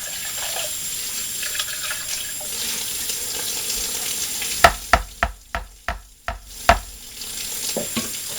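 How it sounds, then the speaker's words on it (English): Water is added to cookie icing being thinned to flooding consistency, then stirred. A faucet runs briefly, followed by a run of quick, regular spoon knocks and scrapes against the bowl. Nobody speaks. "So I'm just going to add some water."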